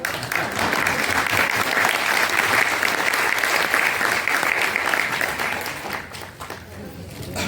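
An audience at a statewide women's entrepreneurs' conference claps together in sustained applause. The clapping stays loud for about six seconds and then thins out, with faint voices underneath.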